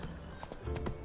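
Hooves of Roach, a horse in the video game The Witcher 3, clip-clopping in a short uneven rhythm over a steady low background, with no talk.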